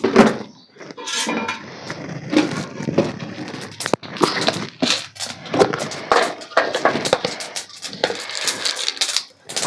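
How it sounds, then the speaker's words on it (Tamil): Mustard seeds and lentils go into hot oil for tempering, giving loud, dense crackling and popping with sharp irregular spits and sizzles, close by and with no talk over it. "கடுகு பருப்பு கொஞ்சம் போட்டுக்கிறோம்."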